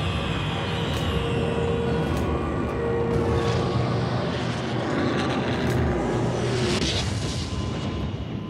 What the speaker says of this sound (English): At once, the Luftwaffe starts bombing French, Belgian, and Dutch airfields.